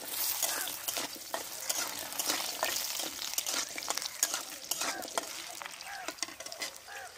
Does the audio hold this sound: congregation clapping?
no